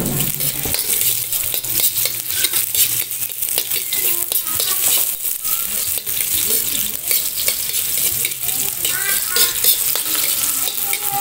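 Garlic and onion sauté in a pan with hot oil, a steady close sizzle and frying hiss running throughout with scattered scraping and stirring clicks of a utensil, no talking.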